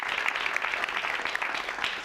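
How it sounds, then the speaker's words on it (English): Audience applause at a community teacher town hall, a brief, fairly steady round of clapping from a crowd, moderately close with no voices over it. "Let's give her a round of applause."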